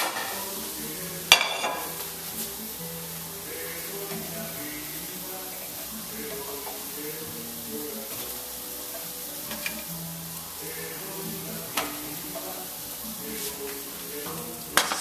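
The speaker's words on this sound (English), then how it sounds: "now see how it's just kind of bubbling" Food bubbling and sizzling in a hot pan as it is stirred, a steady close frying hiss with occasional sharp clinks of a utensil against the pan.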